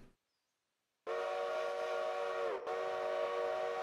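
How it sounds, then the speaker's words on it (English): A steam locomotive whistle on an old mogul engine hauling empty cars to a coal mine blasts in after a moment of silence, a loud sustained chord-like tone with a brief dip before resuming, no voices. "Just listen to the confidence in that whistle."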